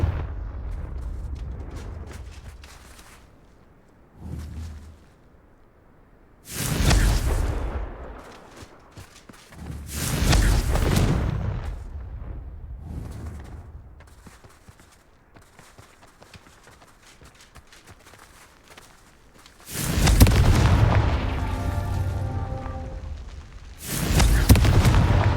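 Confringo fire spells go off in Hogwarts Legacy, several loud booming blasts arriving in separate bursts with quieter rumbling gaps between them.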